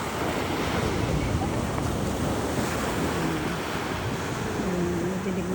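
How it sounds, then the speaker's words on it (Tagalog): Ocean surf rolls onto a beach on a cool morning, a continuous loud rush of breaking waves with wind buffeting the microphone and faint voices underneath. "Dinig na dinig yung alon."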